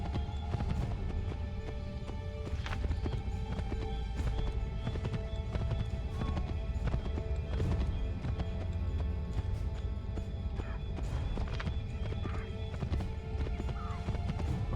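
A horse gallops through the streets of colonial Boston in Assassin's Creed III, its rapid clip-clopping hooves steady and close, with occasional neighs over a continuous game soundscape.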